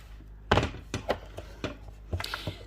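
Point gun driving metal framing tabs into the wooden frame of a gouache canvas painting, a series of sharp, separate thunks spaced irregularly, close and fairly loud against a quiet room.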